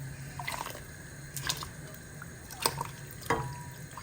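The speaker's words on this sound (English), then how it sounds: "then we add our rinsed, washed rice" Rinsed, washed rice going into a pot of water bubbling with spices: a quiet run of soft splashes and drips in irregular bursts, with a steady low hum behind.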